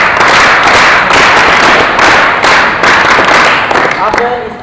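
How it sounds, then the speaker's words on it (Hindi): Children clap together at a gurukul gathering, a loud, sustained round of applause with rhythmic bursts that tapers off near the end. "तो एक बार अपने लिए तालियां बजाएंगे सभी बच्चे"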